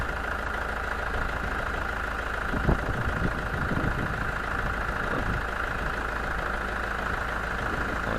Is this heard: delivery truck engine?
yes